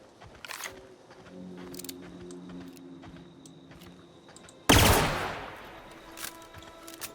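A weapon fires once in The Outer Worlds video game, a sharp loud blast with a decaying tail, preceded by quieter game sounds and faint clicks.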